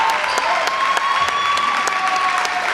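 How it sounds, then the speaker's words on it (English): Crowd applauding at a girls varsity high school basketball game late in the fourth quarter, a steady roar of clapping in a gym with a few sharp whistles cutting through and a sustained tone running beneath. "they should be getting a standing ovation with 1:06 to go"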